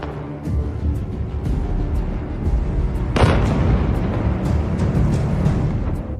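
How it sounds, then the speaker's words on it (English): A precision strike hits a Russian military factory that builds anti-drone protection systems, a loud, sustained rumbling blast that surges sharply midway and rolls on heavily, with no voices. "But this explosion was not an isolated case."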